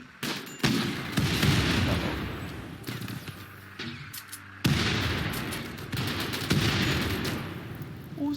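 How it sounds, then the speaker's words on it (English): Mortar fire in the colony game RimWorld, with repeated heavy booming bursts, each a sudden loud onset that rumbles and decays, several rounds spaced a second or two apart. "What was that? The mortar."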